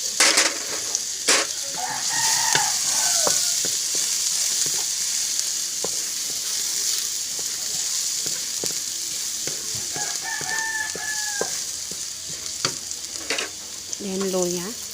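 Garlic frying in hot oil for a squid steak dish, a continuous close sizzle with occasional utensil clicks and stirring, while a rooster crows in the background several times.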